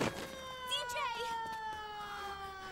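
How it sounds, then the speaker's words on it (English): An ambulance siren wails with steady rising and falling tones, loud and close, with voices talking faintly underneath. "At least it's an ambulance."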